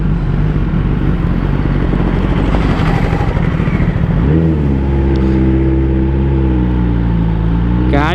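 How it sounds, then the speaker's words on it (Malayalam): Kawasaki ZX10R motorcycle exhaust, a loud rough roar that settles into a steady humming idle with strong harmonics, then a sharp rising rev at the very end, close by. "ശരിക്കും എക്സോസ്റ്റ് സൗണ്ട് കേൾപ്പിക്കാം."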